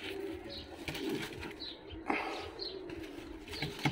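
Fighting pigeons in a loft in Tbilisi, Georgia, coo softly and flap their wings in short bursts, fairly faint and close, with occasional chirps and no talking.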